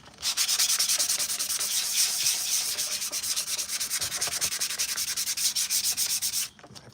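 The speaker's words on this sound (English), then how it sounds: "Every time you sand this down, it's going to help that" Continuous hand sanding of a filler-primered Mandalorian armor piece with Bondo glazing putty, a dense rapid scratchy rasp of steady back-and-forth strokes, close and loud for several seconds before stopping.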